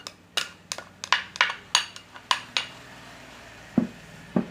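A spoon scrapes and clinks against a bowl while grated coconut is mixed for awug mutiara, giving a run of sharp, close, irregular knocks followed by a softer scrape and two duller taps.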